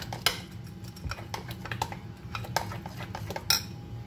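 Raw chicken being mixed with salt and black pepper in a bowl for sweet and sour chicken, giving a run of light clinks and scrapes of a utensil against the bowl, close and fairly quiet with a low background hum.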